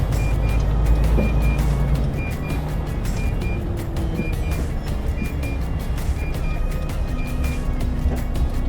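A lorry reversing in a lorry park, emitting regular high electronic beeps over a rumbling diesel engine, with another vehicle's engine noise strong at first, nearby and steady throughout.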